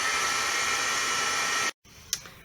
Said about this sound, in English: If you do decide to use the heat tool, you can come around and just kind of go on the edges